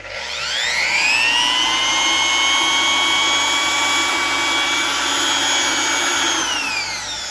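A Bauer compact router motor runs steadily and loudly, spinning up to a sustained high-pitched whine with a rising start, then holding an even, continuous drone with no voices over it.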